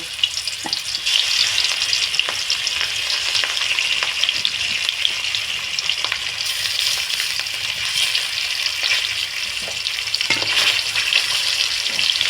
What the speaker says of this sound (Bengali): মাছগুলো খুবই হালকা করে ভেজে নেব এবার মাছগুলো দিয়ে দেব